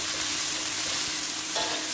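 Shrimp fry in a pan for a rolled pastry filling, giving a close, continuous crackling sizzle that stays even and unbroken, with no talking.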